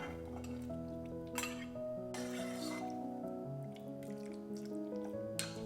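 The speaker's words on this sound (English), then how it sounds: "Lastly, I stir in lots of Morello cherries in the compote." Morello cherries being stirred into a cherry compote, with soft wet squelches and a few light clinks of a spoon against the pot, quiet and close under faint background music.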